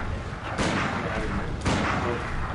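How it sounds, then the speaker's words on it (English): Gunfire from the video game Bloodborne, two loud broadband blasts about a second apart over a steady background of game noise and talk. "Just start shooting him."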